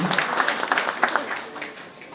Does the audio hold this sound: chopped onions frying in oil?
no